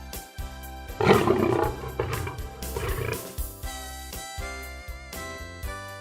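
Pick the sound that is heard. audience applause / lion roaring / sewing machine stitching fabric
lion roaring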